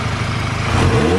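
An Audi A4 fitted with an ECS Tuning cold air intake revs up, its engine note rising steadily and loud for about a second, heard close with no talk.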